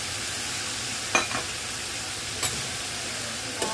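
Lentils fry and get stirred in a hot pan with red cabbage stems, giving a steady sizzle with a few brief scrapes of the spoon, close and alone.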